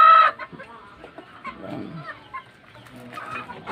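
Hens cluck in a close farmyard coop, with a sharp squawk at the start followed by scattered soft clucks and calls.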